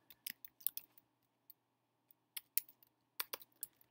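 Keyboard typing of search terms on a computer, a few quick bursts of clicky keystrokes separated by pauses, close and fairly quiet with no talking.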